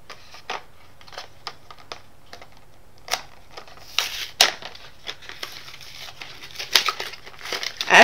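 Individually packed Lash Blast Volume mascara being opened from its card packaging, a run of close, crisp crinkles, tears and ticks that start sparse and grow busier toward the end.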